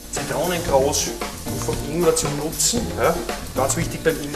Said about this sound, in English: I add the onion, heat it up a little, without color. That is very important. So just stir until it's transparent.